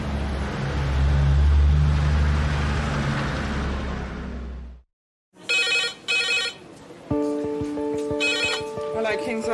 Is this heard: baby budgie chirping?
no